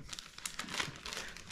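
Plastic bag crinkling as an item is packed back into it, a continuous rustle with sharper crackles that sit close and fairly loud, with no talking.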